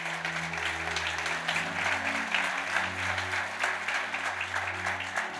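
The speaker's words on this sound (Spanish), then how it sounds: "Denle un aplauso al Señor." Loud crowd applause at a church service fills the space, steady and sustained throughout, with a low droning musical tone running underneath.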